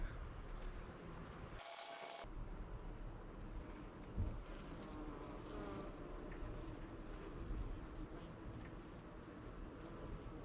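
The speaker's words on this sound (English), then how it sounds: "And the bees are pretty thick." Honey bees buzzing thickly in an open hive during a queen-mating check: a dense, steady outdoor hum that continues throughout, broken by one brief dropout.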